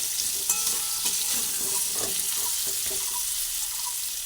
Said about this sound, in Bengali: আলুগুলোকে প্রথমে ভেজে নিচ্ছি